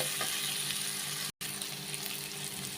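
Sliced onion frying in oil in a home kitchen pan, a steady close sizzle that runs throughout, broken by a brief silent gap near the middle.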